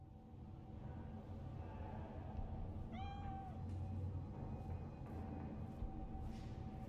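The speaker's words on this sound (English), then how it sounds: "I had to get one more meow out of Nibbles before I picked up Nibbles." A single clear cat meow rises and falls once, mid-clip, in the video game Cyberpunk, over a steady low background hum, with no other voices.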